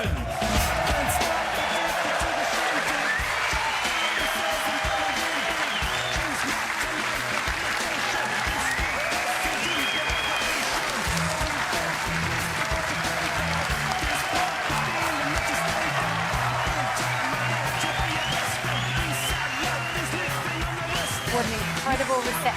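Snooker crowd at the Masters evening session applauding and cheering steadily as Northern Ireland's Mark Allen walks on, a dense, sustained wall of clapping with whoops, close and loud throughout.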